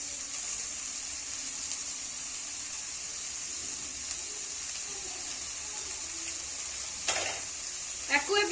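Grated paneer fries in a pan with onion, capsicum, tomato and masala, giving a steady soft sizzle with a few stirring scrapes of a utensil near the end and no talking.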